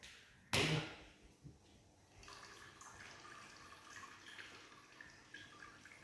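Water trickling from a small Ganesh idol fountain, a faint steady patter and splash following a brief sharp knock, quiet and close with no talking.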